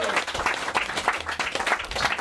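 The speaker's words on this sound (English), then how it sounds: "Give him a big round of applause." A studio audience claps for a guest on a football talk show, a brief burst of dense, fairly close applause with no one talking over it.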